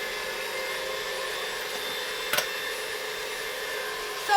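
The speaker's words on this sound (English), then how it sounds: "I'm going to start whisking it up so it gets frothy." Two egg whites, about 60 grams, whisked toward a froth, a steady even whir that runs unbroken and fairly loud throughout, with a brief sharper clatter near the middle.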